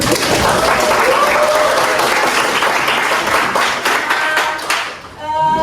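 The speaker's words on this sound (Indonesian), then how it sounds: "Mari kita berikan dulu aplaus." A classroom group gives a round of applause during a history lesson. The clapping is loud, dense and sustained, then thins and fades near the end.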